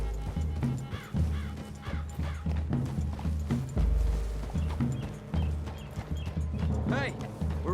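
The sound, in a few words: horses trotting, from the video game Red Dead Redemption 2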